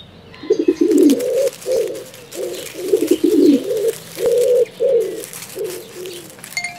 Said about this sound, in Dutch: Het is de duif.